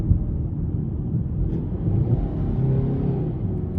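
A 2025 Hyundai Sonata SE engine pulls up a hill as a low, steady rumble inside the cabin, a continuous drone with no talk.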